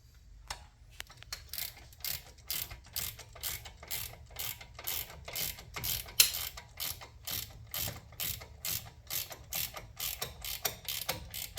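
A socket wrench ratchets steadily while a socket is backed off during front wheel bearing replacement on a 2014 Ford Taurus, giving a long run of close, crisp clicks in an even rhythm with no talk.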